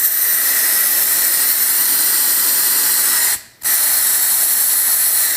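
Compressed air hisses loudly and continuously past an engine valve during a leak test, with one brief dropout midway before the steady rush resumes.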